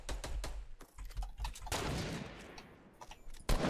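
Rapid bursts of gunfire in the Fortnite video game, a cluster of sharp repeated shots followed by a noisy blast and more scattered shots, fairly close with no talking.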